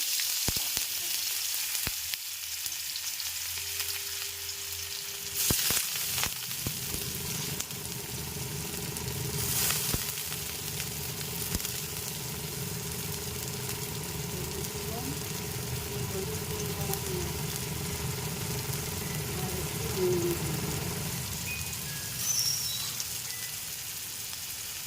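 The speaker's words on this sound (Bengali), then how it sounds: "গরম হয়ে গেছে তেলটা। নেবেন, তারপর পেঁয়াজ ফোড়ন দেবেন প্রথমে।" Onion tempering in hot oil for an ivy gourd (kundru) curry, a steady crackling sizzle that runs continuously with occasional stirring clatters and a faint background hum.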